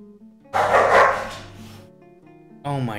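Dogs barking while playing with a cat, a loud burst of close barking and yipping followed by a brief quieter moment and a second bark.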